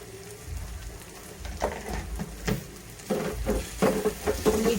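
A spoon stirs salt through capsicum cooking in a pan for a besan bhaji, giving a soft sizzle with scraping strokes that grow louder and busier toward the end.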